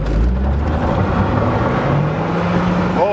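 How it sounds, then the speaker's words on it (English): A turbocharged Volvo car accelerates after a radiator hose repair, a loud rising engine roar that sweeps up and then eases off, heard from inside the car. "Oh yes! That turbo works good!"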